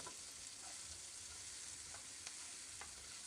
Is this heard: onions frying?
yes